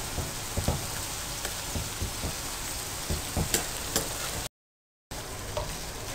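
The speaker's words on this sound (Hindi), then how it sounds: "इनको साथ डाल दें इसमें और इनको 1 मिनट के लिए साथ फ्राई कर लें।" Sliced red chilies, a piece of ginger and five thickly cut green chilies fry together in hot oil, a dense close sizzle with scattered crackling pops and stirring, broken by a brief silent gap.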